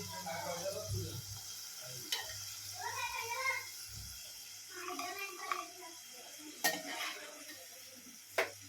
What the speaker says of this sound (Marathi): आता आपण बाकीचे फ्रेंच फ्राईज फ्राय करून घेऊया